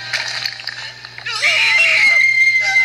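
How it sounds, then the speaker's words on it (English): A shrill scream sound effect rings out loud and sustained over the second half, following quieter higher-pitched squealing voices and a steady low hum. "I'm using this scream in one of my videos."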